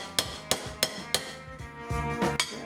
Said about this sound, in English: I'm going to just keep on hammering.